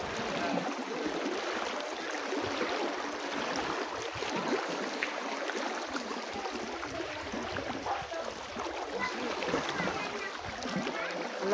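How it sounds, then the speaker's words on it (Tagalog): Strong, fast-flowing water of the Aklan River rushes continuously at close range, a dense, even roar with splashy texture throughout. "Ang lakas naman ng karat ng tubig."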